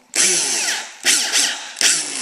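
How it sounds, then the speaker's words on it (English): An electric drill spins a 7mm bolt while stretching an RC tire, in three loud close bursts of high whirring, each winding down briefly before the next starts. "all you do is chuck up your 7mm bolt into your drill, and you can just tighten it up"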